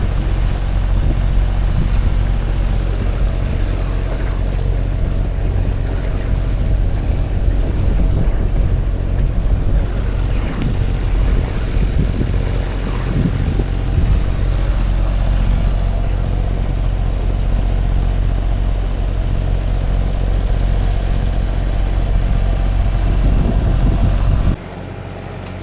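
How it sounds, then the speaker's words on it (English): A sailboat motor-sails with its mainsail up in wind and waves on the way to the Alderney race, a steady loud roar of wind buffeting and engine drone with rushing water that runs throughout and then drops abruptly near the end. "So I've had the main up for motor sailing since we left Cherbourg."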